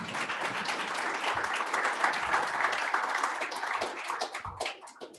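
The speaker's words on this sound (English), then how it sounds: "So let's give Kevin a round of applause." An audience at a startup pitch meeting applauds, a dense, steady wash of clapping from many hands that carries on for several seconds before starting to thin out at the end, with no talking.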